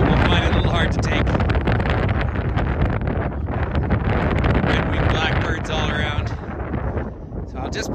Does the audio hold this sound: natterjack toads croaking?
no